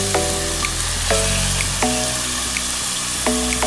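Goat brain sizzles steadily in a pan with browned onions for a bheja fry, a loud, continuous crackle with a few clinks of a utensil against the pan.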